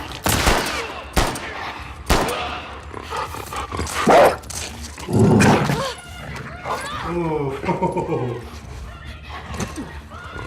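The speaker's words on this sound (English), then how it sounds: "Them dogs are gonna make this gameplay a motherfucker." Dogs barking in The Last of Us Part II amid bursts of gunfire and game action, the barks mixed with loud percussive shots and a person reacting aloud over the top.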